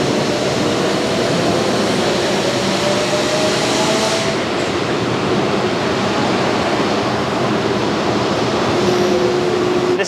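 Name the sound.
brake link dyno machine running a test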